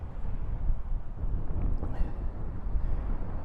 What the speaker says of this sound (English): Very windy in this area.